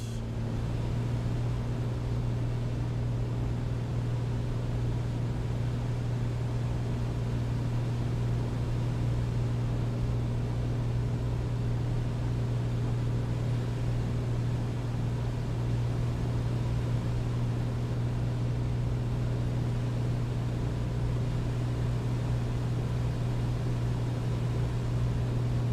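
Steady, loud droning of an A2A Comanche piston engine held at 2,400 RPM in Microsoft Flight Simulator, a constant low hum with a strong tonal band and broadband rush running unbroken throughout.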